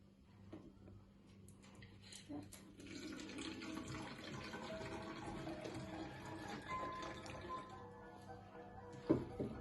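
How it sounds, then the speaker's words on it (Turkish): Water being poured into a container for a home volcano experiment, a faint, steady trickle and splash lasting several seconds, close by and without talk. "İlk önce suyumu koyuyorum."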